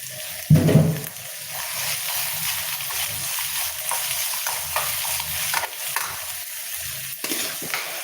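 Onion and cooked rice fry in a pan, with a steady sizzle throughout and an opening louder scrape or clatter, then softer intermittent stirring strokes, close and without speech.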